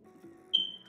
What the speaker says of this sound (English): Sorry for the beeping sound. It's the fire alarm.